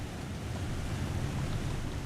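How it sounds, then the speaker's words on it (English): A waterfall in the snowy, frozen landscape of the video game The Long Dark gives off a continuous low roar of falling water, steady and moderately distant, with no voices. "I can hear a waterfall."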